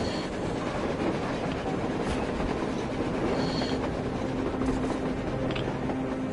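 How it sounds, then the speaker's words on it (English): Continuous rumbling mechanical roar of a train moving on the surface in a video game, dense and steady throughout with faint clanks on top and no speech. "A train! A damn train on the surface!"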